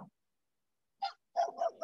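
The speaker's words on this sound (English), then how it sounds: "We got a little poo-poo barking away." A small dog barks a few quick, sharp yaps close by, in short bursts separated by silence.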